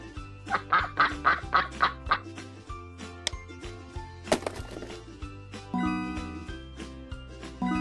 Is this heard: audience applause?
no